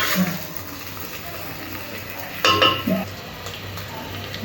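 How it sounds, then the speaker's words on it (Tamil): Cooked mutton for biryani is stirred in a pan, with a couple of soft metal-on-metal scrapes and clinks over a steady low kitchen hum. "மட்டனை போட்டுட்டு ஒரு நல்லா கலரி வச்சுக்கலாம்."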